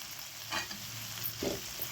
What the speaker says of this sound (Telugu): ఇప్పుడు కరివేపాకు వేసేద్దాం